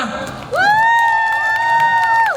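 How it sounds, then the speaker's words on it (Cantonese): An audience at a Hong Kong game and anime festival launch event cheers with one long, loud whooping voice over a scattering of claps that swells near the end. "俾掌聲好嘛？"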